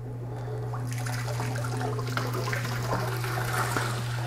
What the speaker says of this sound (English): You can hear that water running out.